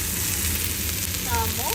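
Carrots sizzling in hot oil while being fried for pancit, a steady close crackle that runs throughout, with a brief clink or stir partway through.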